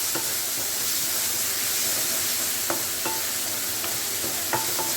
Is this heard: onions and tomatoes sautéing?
yes